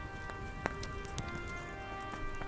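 Horse hooves clip-clop in the medieval game Kingdom Come Deliverance, a few sparse, fairly soft strikes over a steady ambient bed.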